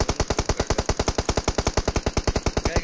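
Automatic gunfire in the mobile game PUBG Mobile rattles out as one loud, rapid, evenly spaced burst of shots lasting about three seconds, with no talk over it.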